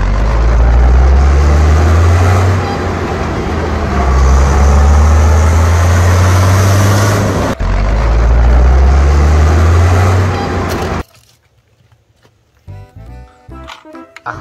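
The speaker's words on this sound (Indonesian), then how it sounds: "Ada mobil truk tangki Pertamina." A Pertamina tanker truck rumbles with a loud, steady low engine drone for about eleven seconds, then cuts off abruptly into a much quieter passage of other sounds.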